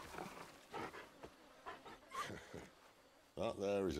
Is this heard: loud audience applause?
no